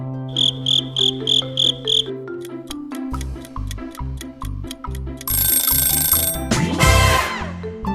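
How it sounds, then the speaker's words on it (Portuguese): A cricket chirps in six short, even bursts over a low steady tone, then lively music with a crashing flourish takes over. "Parabéns, é um grilo."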